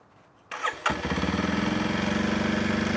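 A Kawasaki KLX 230 Sherpa S ABS 2026 dual-sport motorcycle engine cranks briefly and catches, then settles into a steady, rhythmic single-cylinder idle, fairly close and moderately loud.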